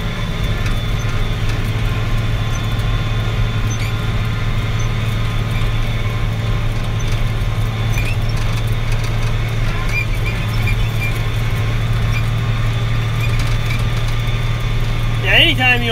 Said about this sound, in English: this machine will cut some hay